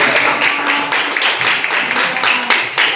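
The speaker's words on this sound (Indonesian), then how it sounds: "tepuk tangan" Classroom audience clapping after a group's biotechnology presentation, a steady dense patter of many hands filling the room at close range, with faint voices mixed underneath.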